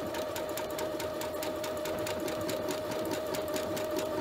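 Sewing machine running a straight stitch along a buttonhole, a fast even rhythmic whir and needle clatter, close and continuous.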